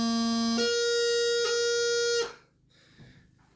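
A bagpipe chanter plays a high A doubling with a thumb sweep across the back hole: a loud, reedy sustained tone steps up to a higher held note with a brief flick midway, then cuts off, leaving quiet room noise.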